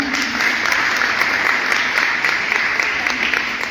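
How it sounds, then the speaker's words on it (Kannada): Loud, continuous applause fills a worship gathering of an Esther prayer group in Hubli-Dharwad, the dense clapping steady and close throughout with no voices rising above it. "ಅವರಿಗೆ ದೊಡ್ಡದಾದ ರೀತಿಯಲ್ಲಿ ಒಂದು ಚಪ್ಪಾಳೆಯನ್ನು"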